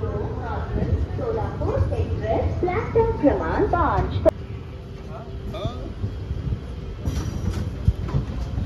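Inside a moving passenger train in the morning on the route from Panvel to Akkalkot, with a constant rumbling rattle of the carriage under a person talking nearby.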